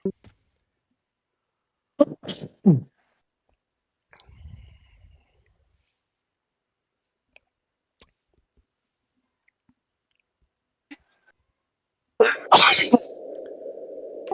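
A single sharp sneeze bursts out near the end after scattered small clicks and a short cough-like sound, followed by a steady low hum; quiet room otherwise.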